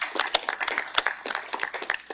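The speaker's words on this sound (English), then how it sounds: "Let's give them a round of applause." Audience applause honoring law professors at a free speech and hate speech panel, a dense patter of many hands clapping at close to moderate distance, steady throughout with no speech over it.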